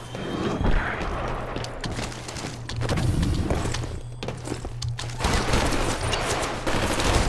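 Rapid bursts of gunfire fill a live-fire training exercise in Titanfall, loud and close, with dense overlapping shots and machine-gun rattles alongside footsteps and mechanical thumps, and only scattered pauses between volleys.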